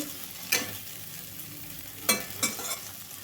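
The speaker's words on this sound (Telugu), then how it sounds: "చూడండి బాగా వేగుతున్నాయి చూడండి మంచి కలర్ వచ్చిన దాకైతే వేపుకోవాలండి" Raw banana pieces fry in hot oil with a soft, steady sizzle, broken by a few sharp stirring scrapes and clatters, close and quiet with no talk.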